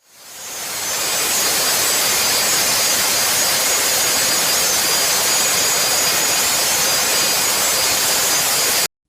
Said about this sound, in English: Jet engine.